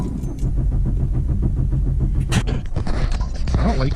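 A car engine cranks and fires up close by, a loud, continuous low rumble with brief clicks and rattles over the top, no talking.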